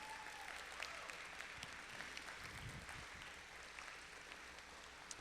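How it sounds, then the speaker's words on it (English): An audience at a 2016 student campaign debate applauding, a steady even wash of clapping heard from a distance that holds throughout without letting up. "let's give them a round of applause."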